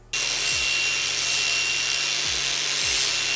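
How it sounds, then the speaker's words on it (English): Flap disc grinding burrs off the coped end of a steel tube for a Class 1 scale chassis, a loud continuous high-pitched abrasive whine held steadily throughout, close up with no talk. "we're going to hit it with a flap disc just to take off the burrs on the end"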